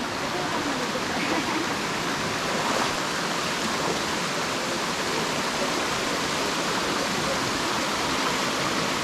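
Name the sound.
jungle waterfall in the Philippines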